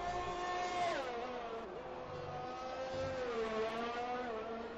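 Race cars in a racing video game pass through the Monaco tunnel, several high-revving engines whining and shifting pitch as they sweep through, with overlapping, steady engine drones that rise and fall across the stretch.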